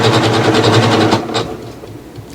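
A new sewing machine stitching a blind hem on knit fabric, a loud, close, rapid rhythmic whirr of needle strokes that slows and stops after about a second.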